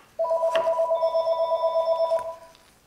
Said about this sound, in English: my phone's ringing and we're going to ignore it